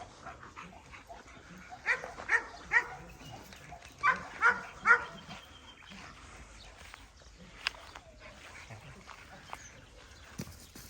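Several dogs bark in short bursts, with a few distinct yelps and some quieter whimpers between them, fairly close, against faint background noise.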